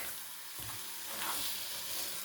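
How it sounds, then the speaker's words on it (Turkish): Stuffed-potato filling sautéing in a hot pan, a steady dense sizzle close up with soft stirring scrapes shifting the texture throughout. "Yeterli miktarda birlikte kavrulacaklar."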